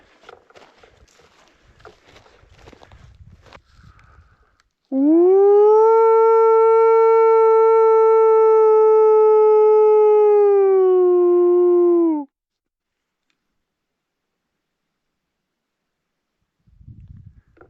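A person imitates a wolf howl outdoors in winter at an isolated camping spot: one long, steady, tonal wail lasting several seconds that dips slightly at the end, preceded by faint rustling.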